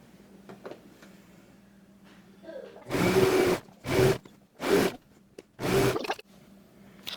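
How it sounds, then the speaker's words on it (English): A sewing machine stitches a ruffle onto a dress in four loud motor bursts, each lasting about half a second to a second, separated by short pauses, with faint room noise before. "I have now finished sewing the ruffle on"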